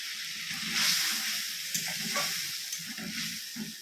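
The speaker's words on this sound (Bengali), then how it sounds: "মশলাটা ভাজা হয়ে গেছে, তেল ছেড়ে দিয়েছে।" Spice paste sizzling and frying in hot oil for a Bengali egg curry, a steady close crackle and hiss that runs throughout with soft stirring underneath.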